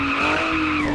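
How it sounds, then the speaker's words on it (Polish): A car skids across snow in the Car For Sale Simulator video game, a loud, continuous tire-slide whine with steady engine drone running for the whole second. "Auto się wywala na śniegu, logiczne."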